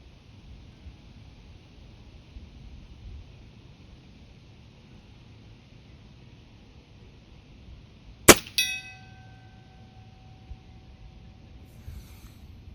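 A single bullet from a Cometa 300 at the range strikes a steel gong with one sharp metallic clang, then a bright ringing tone lingers and fades over several seconds against quiet outdoor ambience.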